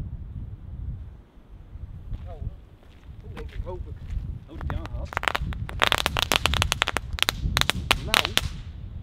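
A lit firework or firecracker bursts into a rapid string of sharp crackling pops, starting with scattered snaps and building into dense crackling, with people talking nearby and wind buffeting the microphone outdoors.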